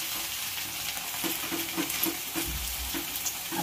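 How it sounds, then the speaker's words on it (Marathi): Green chilies frying in hot oil give a steady, crackling sizzle with a few soft stirring scrapes, close and fairly loud throughout, with no talking. "तेल आपण टाकून तेलात मिरची तळून घेतली"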